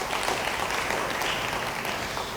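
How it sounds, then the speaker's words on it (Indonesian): Church congregation applauding, a continuous wash of clapping at moderate level with a roomy, slightly distant quality and no talk over it. "Yang percaya beri tepuk tangan bagi dia."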